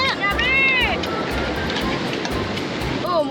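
Rough surf from the notorious south-coast sea of Java washes steadily onto a beach, a continuous loud broadband roar with surging swells, while children's high voices call and shout over it.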